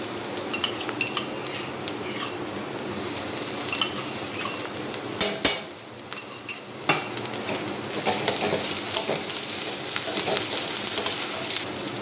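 Crushed ginger, garlic and green chili fry with half-browned onions for palak paneer, sizzling loudly and steadily while a spoon stirs and scrapes the pan in repeated clinks.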